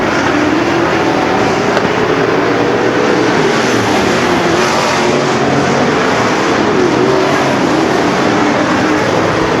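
Topless race cars roar around a short track in a feature race, a dense, loud and continuous engine drone from several cars with no break.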